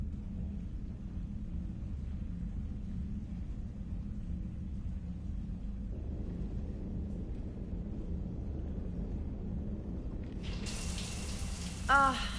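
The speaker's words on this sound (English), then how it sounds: "I figured you'd be more interested in a shower." Shower water runs steadily as a constant hissing spray in the video game Mass Effect 3, continuing for a long stretch before a brief brighter splash near the end.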